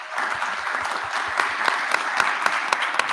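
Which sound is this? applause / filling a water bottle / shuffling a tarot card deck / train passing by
applause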